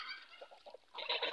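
Geese grazing alongside a turkey give soft, nasal honks, a short run of quiet calls followed by a louder burst, heard close and alone.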